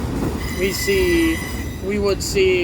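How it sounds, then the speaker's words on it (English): A long, slow auto rack freight train with a distributed power unit mid-train rolls past in Ohio, its rumble and intermittent wheel squeals running under someone talking. "this auto rack train is very long, very slow, has a DPU in the middle."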